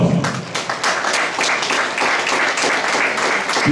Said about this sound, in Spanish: vamos a despedir, por supuesto, con un fuerte aplauso